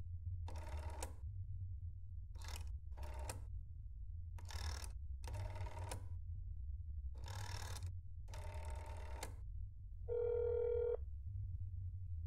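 In the horror game That's Not My Neighbor, a telephone rings in a series of electronic bursts with gaps between them after a number is dialed, over a steady low hum, ending in a brief tonal beep.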